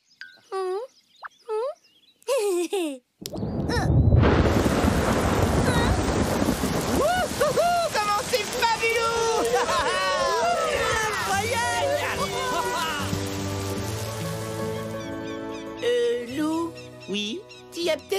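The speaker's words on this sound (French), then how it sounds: "qu'il pleuve à flots sur le jardin de Joshua." A loud, dense wash of heavy rain and rumbling thunder bursts in after a few short sounds, with voices and bright effects layered over it before it thins out.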